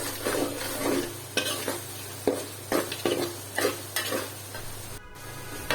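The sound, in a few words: spices frying with onions and chilies in a pan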